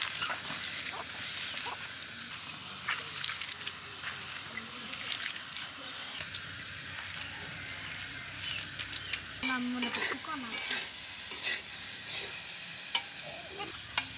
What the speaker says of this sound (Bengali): সব চটকাবো